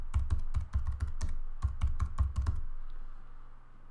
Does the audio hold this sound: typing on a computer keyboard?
yes